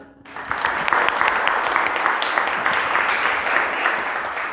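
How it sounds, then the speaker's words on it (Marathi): Loud, dense applause from a crowd starts abruptly and keeps going steadily with many overlapping claps. "त्यांच्यासाठी जोरदार टाळ्या"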